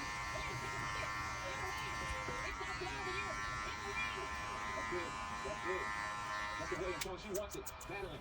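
Electric hair clippers fitted with a number 2 guard buzz steadily and closely throughout, flicking away stray hairs during a bulky taper fade haircut, with a brief rougher change near the end.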